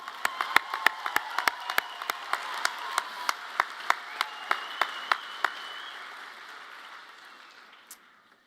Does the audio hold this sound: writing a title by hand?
no